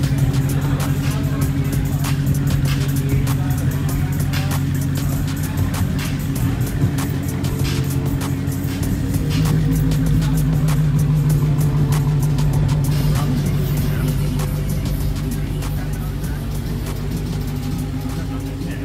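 A 2020 Dodge Charger SRT Hellcat Widebody's supercharged engine roars on a dyno, a loud sustained drone that climbs and holds for many seconds, with someone talking over it.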